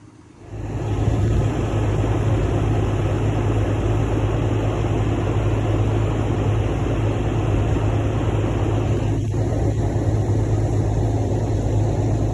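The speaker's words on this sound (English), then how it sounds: "Due to the vacuum noise here, you can't quite hear the dialogue" A loud, steady vacuum roar starts abruptly and runs continuously, a broad droning whoosh with constant level and no talking, as the vacuum collects hornets from a baldfaced hornet nest high up in a bucket truck.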